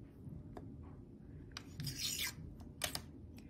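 Scraping and rasping as a blade trims the ends of a polymer clay cane, with soft quiet scrapes early on and a louder cluster of rasping strokes in the second half, close and alone.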